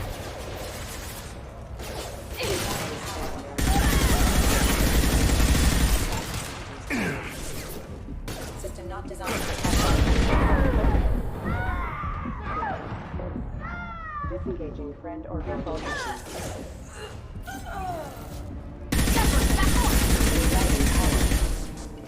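Bursts of rapid gunfire from the video game Mass Effect 2 Legendary Edition come in three loud sustained volleys, with someone talking and other game voices between them.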